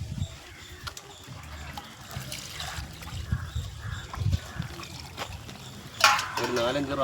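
About 1.5 kilograms of pork being washed in water by hand, with close splashing and trickling in uneven bursts and a brief louder slosh near the end.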